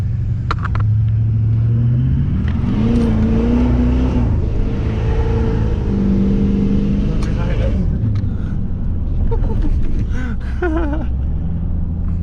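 Turbocharged AWD Honda Civic engine running loud and close, with revving and rising tonal whines from the turbo spooling, alongside steady rumbling; people talk over it.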